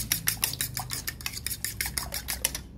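Eggs beaten for scrambled egg, a utensil clicking rapidly and rhythmically against the bowl in a steady series of sharp taps, close and clear with no voices.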